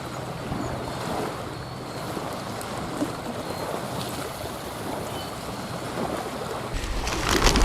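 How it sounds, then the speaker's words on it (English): Wind-driven waves crash along the bank of a big lake in early spring, a constant roaring wash of surf and gusts buffeting the microphone, loud and close, swelling toward the end. "I really don't like fishing along the bank when there's crashing waves."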